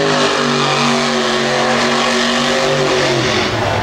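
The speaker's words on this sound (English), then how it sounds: "Drifting donuts across the pavement into the pool and the backflip ramp." A race car drifts donuts on pavement at an outdoor event, its engine roaring loud and sustained at high revs, pitch wavering and sliding down toward the end.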